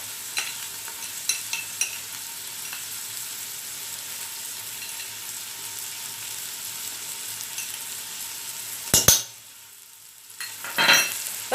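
Lamb with onion, turmeric, ghee and salt sizzles in a pot while being stirred, a steady soft frying hiss with a few sharp clinks and scrapes near the end.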